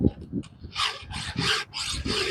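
A file rasps across the cutters of a damaged chainsaw chain in four or five close, steady strokes, each a bright grating swipe, with soft clicks and knocks between them.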